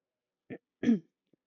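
A quiet, close throat clearing in two short bursts, a brief grunt followed by a louder rasping clear, then silence.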